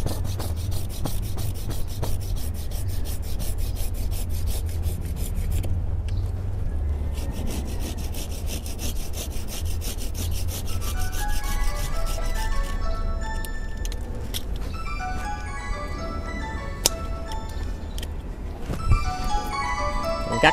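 Close, steady rasping of a hand saw cutting through the wood of a yellow apricot blossom bonsai, with continuous back-and-forth strokes and no talking.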